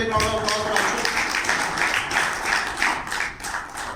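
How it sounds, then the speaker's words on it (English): A big round of applause from an event audience: dense, steady clapping that fills the whole stretch at an even loudness, with a few voices faintly mixed in. "Can we have a big round of applause"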